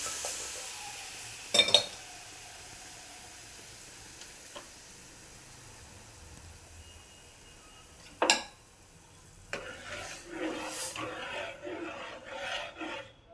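Boiled bottle gourd stew is poured into a hot tempering pan with asafoetida, setting off a sudden crackle and hissing sizzle after a few earlier clinks, the sizzle continuing close and steady to the end.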